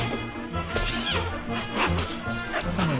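A young Samoyed barks and yips in short, irregular bursts close by, with a few sharp knocks and thuds mixed in during lively play.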